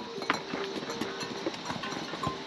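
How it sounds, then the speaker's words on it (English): Irregular donkey hoof clip-clops on a hard mountain trail near Annapurna, several animals passing nearby, with a faint bell and light background noise. "Got a little donkey traffic."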